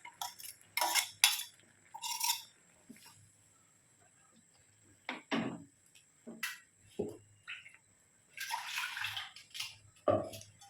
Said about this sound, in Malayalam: ഇതിലേക്ക് നമുക്ക് അരച്ചു വെച്ചിരിക്കുന്ന അരപ്പ് ഒഴിച്ചു കൊടുക്കാം